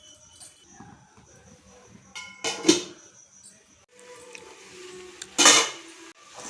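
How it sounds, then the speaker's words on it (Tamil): A plate set as a lid over a cooking pan of frying brinjal: two sharp metallic clinks with a brief rattle, a few seconds apart, with small clatters of utensils in between, near and fairly loud. "தட்டு போட்டு மூடி வச்சிடலாம்."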